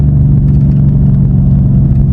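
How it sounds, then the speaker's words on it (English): A car's engine drone runs steady and close for the whole stretch, a low hum that holds constant with a faint rev in it, as the driver downshifts with paddle shifters while slowing for traffic ahead. "Now we're going downshift because there is people in front of us right now, so downshift."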